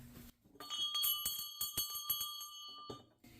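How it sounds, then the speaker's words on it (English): A wartime all-clear bell cast in Birmingham, England rings in a rapid series of bright metallic strikes, each leaving a sustained shimmering tone that overlaps the next, fairly close and alone. "In order to signal the all clear, people would be waiting literally hours in their shelters to hear this"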